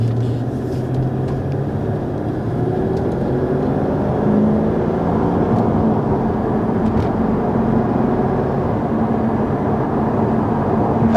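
A 2003 Mercedes-Benz SL500 accelerates harder, a steady close engine drone with road and wind noise building slightly, heard from inside the car without speech.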